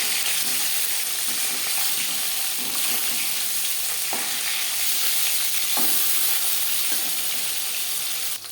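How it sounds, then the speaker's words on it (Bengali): Katla fish pieces frying in hot oil, a dense continuous sizzle and crackle heard up close, with a few faint knocks of a utensil against the pan and no talking. "মাছ ভাজা হয়ে গেছে"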